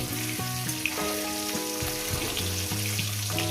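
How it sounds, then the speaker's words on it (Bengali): Katla fish pieces frying in oil in a pan, a steady close bubbling sizzle with a faint hum throughout and no talk. "মাছগুলো এইভাবে আপনারা নেন না হালকা করে লাল করে ভেজে নেবেন যেভাবে আমি ভেজে নিচ্ছি"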